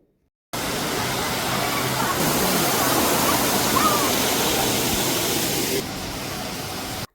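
A steady, rushing roar of a water park's artificial waterfall, falling water pouring on evenly, loud and close, with no pauses.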